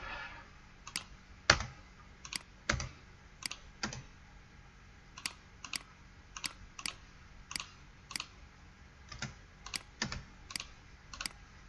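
Someone types numbers on a computer keyboard and presses Enter, giving close, crisp key clicks in uneven bursts with short pauses between them, alone in a quiet room.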